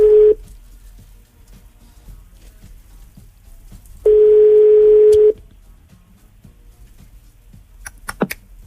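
Two long steady electronic tones sound on a phone line, the first brief, the second about a second long, with quiet gaps between and a few clicks near the end.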